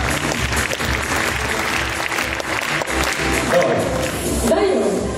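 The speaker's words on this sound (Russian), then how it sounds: "Аплодисменты КВН еще раз." Sustained audience applause at a university student debut show, dense continuous clapping from a large crowd, loud and close, with some voices mixed in.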